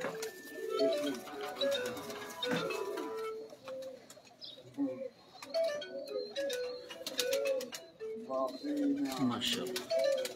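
Fancy pigeons at a breeder's loft in Sialkot coo repeatedly in soft, rolling phrases amid scattered clicks and rustling, with voices talking at moments.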